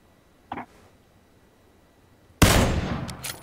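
A sudden burst of gunfire from PUBG (PlayerUnknown's Battlegrounds) rings out loud and close, followed by a ringing tail, with one short, fainter crack a couple of seconds earlier.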